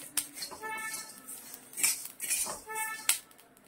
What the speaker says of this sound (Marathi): मस्त सुगंध येईपर्यंत आपल्याला धने भाजून घ्यायचे आहेत.